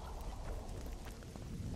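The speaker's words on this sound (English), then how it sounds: "Oh, and now it's raining." Soft, steady rain hiss in The Witcher 2, faint and continuous with a low rumble beneath, no voices over it.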